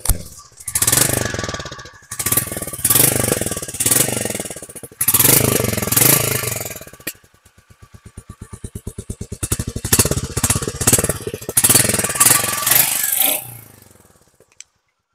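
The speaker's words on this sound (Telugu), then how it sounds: "వెహికల్ అయితే ఇంజిన్ స్టార్ట్ చేశాను. చాలా స్మూత్ గా ఉందండి." A 2024 Royal Enfield Meteor 350 single-cylinder motorcycle idles close by, a loud, steady thumping beat with brief revving surges and a quieter stretch of even putter midway before the engine note fades out.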